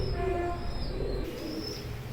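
Domestic pigeons offered for sale coo softly in short low phrases over a steady background hum, with a faint high tone early on.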